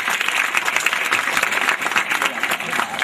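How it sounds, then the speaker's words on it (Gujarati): Applause from an audience at an award ceremony, welcoming a ceremonial lamp lighting: dense, steady clapping from many hands that fills the whole moment without a break. "આ દીપ પ્રાગટ્યને આપણે જોરદાર તાળીથી વધાવી લઈએ."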